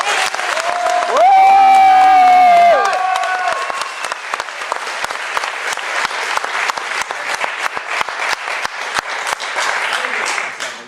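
Applause from an audience at a theatre festival awards ceremony, a dense steady clatter of clapping lasting throughout; a sustained musical tone rises briefly over it early on.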